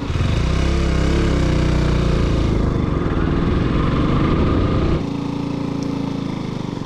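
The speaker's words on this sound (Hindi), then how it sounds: "तो गाइस मैंने बाइक को स्टार्ट कर लिया," A motorcycle engine running just after being started, a loud, close, steady rumbling drone that holds for several seconds before easing to a quieter, lower idle-like note near the end.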